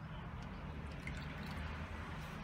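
Water drips and trickles from holes in a plastic bottle with its cap unscrewed, a soft, close, steady patter.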